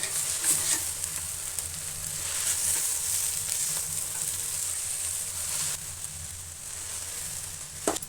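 Fresh grated coconut stirred into a frying drumstick-leaf stir-fry, a steady soft sizzle with scraping stirring strokes, fairly quiet and continuous, dropping slightly toward the end.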